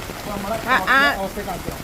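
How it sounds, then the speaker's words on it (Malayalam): Steady heavy monsoon rain hisses in the background while a person talks over it, the rainfall continuous and fairly close. "മഴ ശക്തമായിക്കൊണ്ടിരിക്കുകയാണ്"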